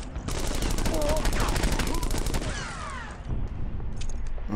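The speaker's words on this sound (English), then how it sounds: "I hear somebody shooting at me." Rapid automatic gunfire in a horror video game, bursts of repeated shots aimed at the player, loud and close for about three seconds, then quieter clicks and game sounds with a brief voice.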